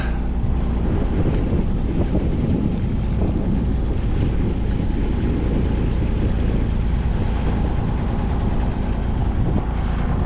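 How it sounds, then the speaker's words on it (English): A steady low boat engine drone slowing down on Brisbane Water, mixed with heavy wind rumble, continuous and loud with no speech. "so we'll just slow the engine down a bit."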